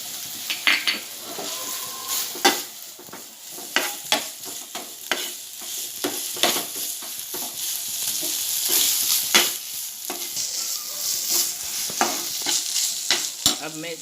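Food in a pan is stirred with turmeric, a spoon scraping the pan in steady strokes over a continuous sizzle, close and clear, with no talking.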